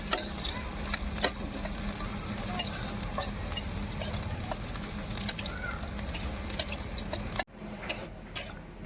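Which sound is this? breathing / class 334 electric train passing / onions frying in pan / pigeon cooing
onions frying in pan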